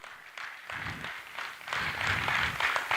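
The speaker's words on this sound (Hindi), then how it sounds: "जोरदार तालियों से स्वागत कीजिए मिस्टर अविनाश सिंह जी का" Audience applause at a software business talk in Hindi, welcoming Mr. Avinash Singh to the stage; a dense wash of clapping that starts modestly and swells louder over a few seconds, with faint voices mixed in.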